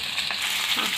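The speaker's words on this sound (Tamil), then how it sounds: "எண்ணெய் ஊற்றிட்டு நான் ஒரு சின்ன துண்டு பட்டை, அடுத்தது வெங்காயம் போட்டுக்கிறோம்." A small piece of cinnamon and onion fry in hot oil with a steady, close sizzle and faint stirring, with no talk over it.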